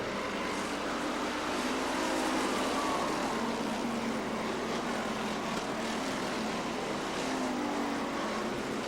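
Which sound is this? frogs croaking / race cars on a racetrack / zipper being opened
race cars on a racetrack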